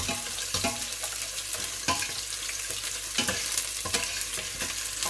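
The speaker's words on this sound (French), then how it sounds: "Mon huile est chauffée. Là, on met un peu les oignons." Onions go into well-heated oil for a vegetable and chicken sauce, sizzling steadily up close while a spoon stirs and scrapes the pan in repeated sharp strokes.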